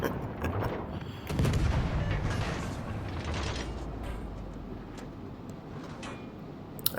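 Destroyer main guns firing in World of Warships Legends, a booming salvo with a sharp blast followed by a long rolling rumble that slowly fades, plus faint mechanical ticks.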